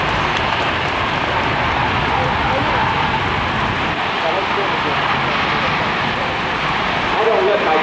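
A C-17 Globemaster III jet transport reverses under its own engine thrust at an airshow, a loud, continuous broadband roar with a hissing wash, steady throughout and heard from the crowd with voices over it.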